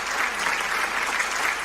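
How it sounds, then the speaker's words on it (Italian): Studio audience of an Italian television variety show applauding, a brief, loud, even wash of many hands clapping close up, with no speech over it. "un applauso"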